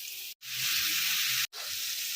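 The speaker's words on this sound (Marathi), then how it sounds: "तांदूळला पण छान फिरून खरपूस भाजून घ्यायचं आपल्याला" Soybeans and washed rice stir-roasting in a pan for soybean pulao, a close bright sizzle broken by two short stirring pauses, no talking.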